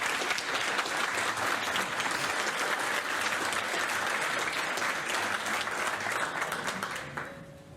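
A large audience applauds continuously, a dense sustained roar of clapping that holds loud and even before fading slightly at the end.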